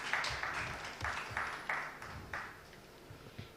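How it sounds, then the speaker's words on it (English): An audience at a corporate governance awards ceremony breaks into applause for a speaker, with several soft bursts of clapping swelling and fading over a few seconds, fairly distant and quiet. "A round of applause for him."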